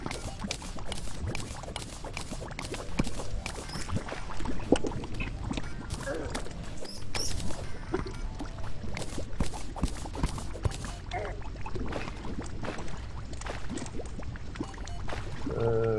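Flowing water in the video game Terraria, a steady trickling, pouring wash that runs continuously under busy game sounds and music, with no voices over it.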